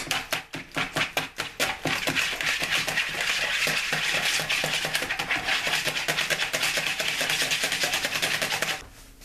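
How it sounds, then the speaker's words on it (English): Batter for onion rings, with hot sauce added, is whisked briskly in a bowl, producing rapid rhythmic clicking and scraping strokes that start as separate beats and blur into a continuous close-up clatter before stopping abruptly. "we're going to whisk this in for about 45 seconds"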